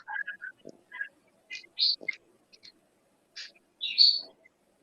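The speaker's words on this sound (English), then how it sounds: "It's a bird. I heard a bird there" A single bird calls in short bursts of bright chirps and whistled notes, clear and fairly close against near silence, with a few faint low thuds in between.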